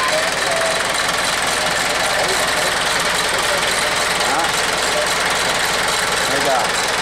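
A Yanmar EF494T farm tractor engine idling, a steady, close, even diesel chug with a constant mechanical rattle and no change in pace throughout.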